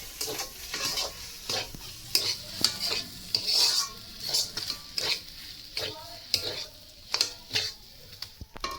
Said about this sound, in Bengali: দিয়ে সমস্ত জায়গায় মিশিয়ে দেবো।